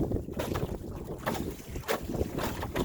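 Strong headwind roaring over the microphone on a boat cruising on open water during a woodland trip, a steady broadband rush with gusty swells and no talking.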